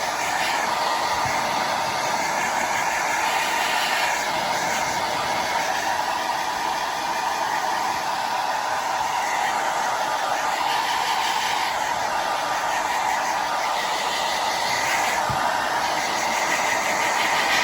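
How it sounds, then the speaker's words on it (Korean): A hair dryer blows continuously at close range, drying acrylic paint on a box, a steady loud whooshing roar with no breaks. "이제 그 드라이기를 이용해서 말려 주시면 됩니다"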